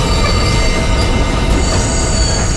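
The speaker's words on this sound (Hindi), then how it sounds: "ट्रेन यहाँ क्यों रुकी?" A train braking toward a stop, steady loud rumble of wheels on rail with high metallic squealing running throughout, no voices.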